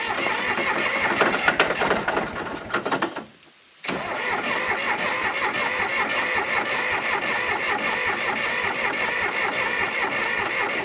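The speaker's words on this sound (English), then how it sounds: "Battery's sounding real weak." A John Deere 350B crawler with a weak battery cranks its engine in a long, sluggish labouring drone, pauses briefly into silence, then cranks again steadily for several more seconds, loud and close.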